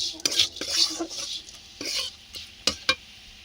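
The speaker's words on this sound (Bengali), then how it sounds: "চিনি গুঁড়ো করে রেখেছিলাম, দিয়ে অল্প আঁচে নাড়াতে হবে" A utensil stirs powdered sugar in a pan over low heat for a pineapple chutney, producing light scraping and clinking strokes with a couple of sharp metal taps near the end.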